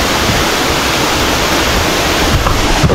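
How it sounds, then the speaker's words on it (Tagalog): Twin Falls in Kalayaan, Laguna roars as a steady, loud rush of falling water close by, a dense unbroken wash of noise with no voices. "Ito yung falls."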